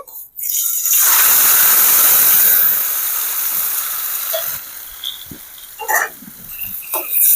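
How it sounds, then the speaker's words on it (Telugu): Washed raw prawns drop into about four spoons of hot oil in a village kitchen, giving a loud burst of hissing sizzle that slowly settles into a steady crackle with a few sharp pops. "కడిగి పెట్టుకున్న రొయ్యలు ఈ ఆయిల్లో వేస్తున్నానండి"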